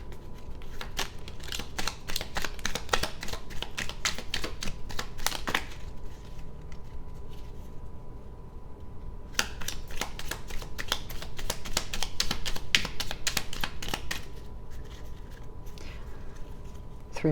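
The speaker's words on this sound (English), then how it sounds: "Three more shuffles." A Ghostly Whispers of Love oracle card deck is shuffled by hand in close, papery bursts of rapid riffling, with a short lull in the middle before it resumes.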